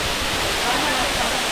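Falling water at Katiki waterfall near Araku, Visakhapatnam, gives a brief, steady, full-bodied rush, close and continuous without a break.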